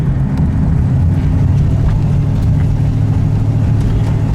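A 1969 Mercury Cougar cruising straight down the road, giving a steady, loud low rumble of engine and tire noise that holds evenly throughout.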